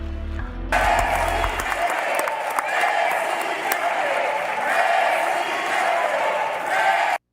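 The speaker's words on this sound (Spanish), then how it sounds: "Otro aplauso de pie" A standing ovation in a chamber at a swearing-in for a Supreme Court justice, loud sustained applause from a large crowd with scattered whoops and cheers, preceded briefly by a voice.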